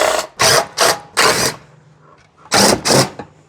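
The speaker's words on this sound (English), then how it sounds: "So we'll go ahead and use our T20 to remove these." Torx T20 screws being removed from the spare tire carrier on a Jeep JK, heard as six short, loud whirring bursts of a powered driver at close range, separated by brief quiet gaps.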